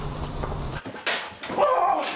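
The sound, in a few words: police dog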